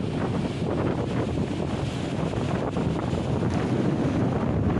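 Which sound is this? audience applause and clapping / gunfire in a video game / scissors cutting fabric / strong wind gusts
strong wind gusts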